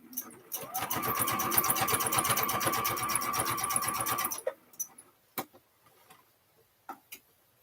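A sewing machine runs a straight row of stitches along a quilt-as-you-go bag panel, a loud, rapid, steady mechanical tick for about four seconds, then stops, followed by a few faint clicks and taps.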